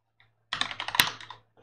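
A password is typed on a computer keyboard, a quick close run of about a dozen light key clicks lasting under a second after a brief silence, with no talking.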